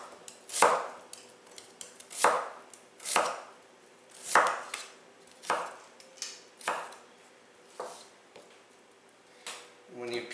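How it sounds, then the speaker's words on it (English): A knife cuts a peeled, halved onion into half moons on a cutting board, with about a dozen crisp, close chops in an uneven rhythm. "I'm just going to cut it into half moons."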